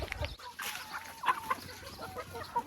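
Chickens, turkeys and chicks at feeding time: soft, close clucks and short chirping calls scattered over a low, steady farmyard background, with no talking.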